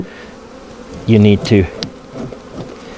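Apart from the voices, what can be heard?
honeybees buzzing on hive frames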